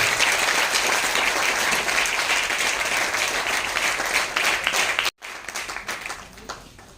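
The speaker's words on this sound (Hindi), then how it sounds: "जोरदार तालियां, तालियां बजती हैं प्लीज" Audience applause at a training event welcomes the Diamond and above leaders: dense, steady clapping from a sizable crowd, then a brief break followed by softer, thinning claps.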